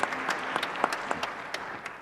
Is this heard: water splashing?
no